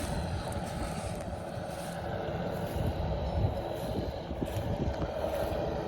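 A Kirovets K-701 tractor plowing a small spring field beside an orchard, its engine a steady, loud low rumble with broadband noise that holds constant throughout, with no voices.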